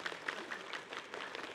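Faint, steady applause from an audience, a dense patter of many hands clapping at a distance with no voices.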